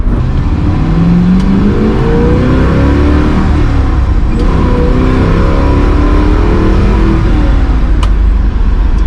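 A 1968 Camaro Z/28 with headers revs its engine loudly and close up, the pitch rising and falling through several throttle blips over a steady, rumbling idle.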